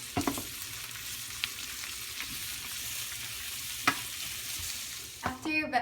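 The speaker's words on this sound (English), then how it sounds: "When you see your carrots starting to brown, you can add in your onions" Carrots and onions sauté in a pan, giving a quiet, steady sizzle with occasional soft scrapes and stirring clatters, and a few utensil clinks near the end.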